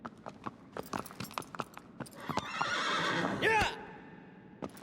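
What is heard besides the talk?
horse whinnying in the video game Shadow of the Colossus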